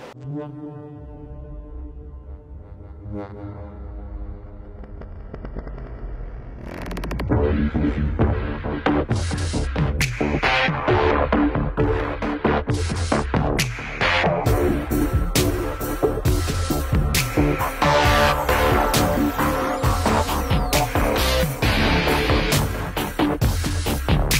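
A semi-automatic candle making machine runs with a low throbbing hum that swells louder after several seconds, then continues as a steady, dense mechanical drone with layered tonal whine and clatter.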